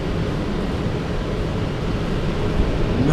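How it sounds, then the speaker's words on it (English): Steady breezy wind rushes and buffets over the microphone inside an 18-foot Toyota Sunrader camper under renovation, a low continuous roar that swells slightly toward the end. "Damn, it's getting breezy in here."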